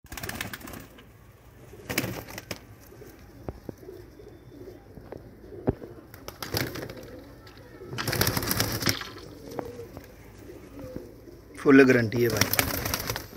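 Punjabi Malwai pigeons on a rooftop near the Khemkaran border in Punjab give soft intermittent coos, with brief wing flaps and bursts of noise, while someone talks over them.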